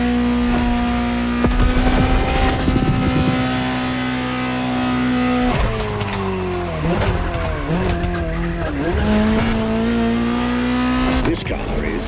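A Ferrari 288 GTO in the video game The Crew Motorfest holds a steady engine drone, then revs hard through rapid pitch swings and gear changes with brief skid sounds, loud and up close.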